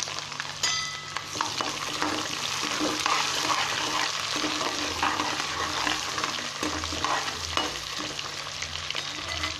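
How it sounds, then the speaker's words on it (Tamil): Onions and curry leaves sauté in a hot pan for a Chettinad fish curry, giving a steady sizzle and frying hiss with occasional stirring scrapes, close up and continuous with no talking. "வெங்காயம் சேர்த்து நல்லா வதக்கி விடுங்க."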